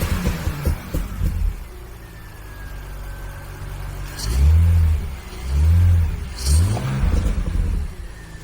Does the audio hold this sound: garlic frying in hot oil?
no